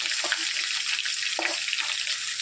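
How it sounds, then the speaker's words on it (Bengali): Salted dried fish frying lightly in oil in a pan, giving a close, bright, crackling sizzle that holds steady, broken by a few soft clicks and taps from a utensil. "লবণ শুটকি এখন না, হালকা করে একটু ভেজে নেব"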